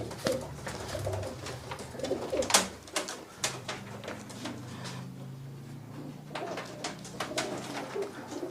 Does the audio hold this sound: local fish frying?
no